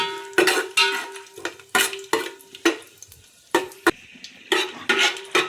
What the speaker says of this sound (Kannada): ಇದು ಜಾಕೈದು ಪೌಡ್ರು ಫಸ್ಟ್ ಇಷ್ಟು ಹಾಕ್ಕೊಂಡು ಫ್ರೈ ಮಾಡ್ಕೊಳ್ಳೋಣ